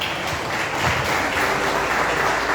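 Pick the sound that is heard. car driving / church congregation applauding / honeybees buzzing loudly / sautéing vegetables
church congregation applauding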